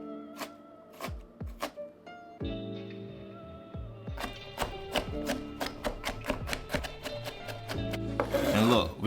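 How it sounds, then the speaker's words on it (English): A knife finely chops white onions and pickles on a cutting board: sharp, close, irregular taps that speed into a quick, dense run of strokes, heard alone with no talking. "We're gonna finely chop some white onions and some pickles."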